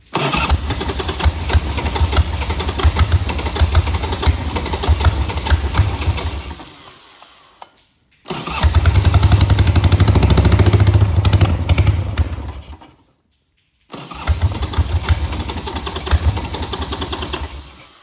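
A 1984 Harley-Davidson Ironhead Sportster XLH 1000cc with suspected fuel starvation and contaminated fuel starts and runs in three loud, close bursts of lumpy V-twin rumble, each dying out before the next restart.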